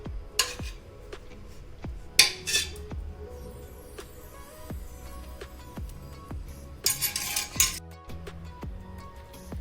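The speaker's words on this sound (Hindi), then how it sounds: "गोश्त के तमाम पीसेस जो थे पसंदे के या चाप के, हमने इस मसाले में अच्छी तरह डिप कर लिए हैं।" Mutton pasande and chop pieces being turned in a spice marinade in a dish, with soft wet dabs, repeated clinks of a utensil against the dish and a few brief louder scrapes, close by with no talk.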